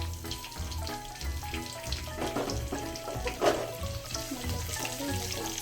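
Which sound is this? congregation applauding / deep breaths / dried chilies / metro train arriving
dried chilies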